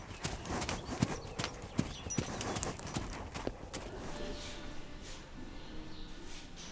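Steady clip-clop of horse hooves on a hard surface, rhythmic and fairly close, fading into a softer rustling background toward the end.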